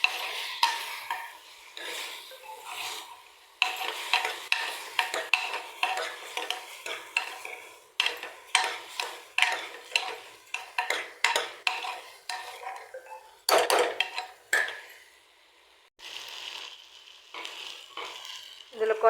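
Rice and lentils being stirred in a hot pot, a steady scraping of a spoon against the metal with a soft frying sizzle underneath, repeated in uneven strokes and close by.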